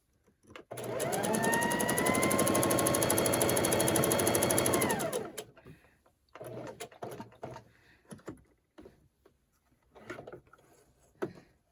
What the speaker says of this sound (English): We're just going to sew along the edge, and then we're going to clip it off.